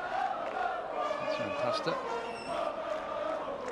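Dense French crowd noise at a Davis Cup tennis quarter-final opening ceremony, Italy against France, a steady roar of voices and cheers, with someone talking over it.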